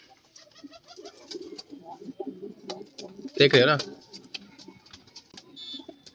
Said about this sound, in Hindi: एक कबूतर इसके अंदर बंद है